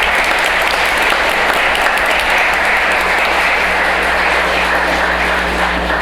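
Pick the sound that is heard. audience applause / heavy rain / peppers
audience applause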